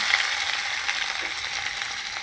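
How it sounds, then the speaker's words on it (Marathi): A ginger and green chili paste tempers in hot oil with asafoetida in a cooking pot, producing a steady, close, bright sizzling hiss for a dry chicken dish, with no talk. "आले मिरचीची पेस्ट टाकते फोडणीला"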